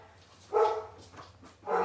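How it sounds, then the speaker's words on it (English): Dogs barking in a home, a few deep woofs in short bursts at moderate distance, with quiet gaps between them. "You're gonna hear my dogs."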